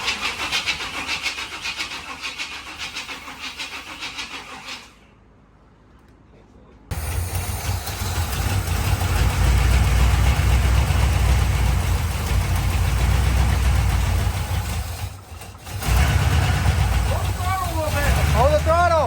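A cheaply bought, previously non-running Chevrolet Corvette cranks, briefly goes quiet, then catches and roars into a loud, rough idle. The throttle rises and dips while people talk nearby.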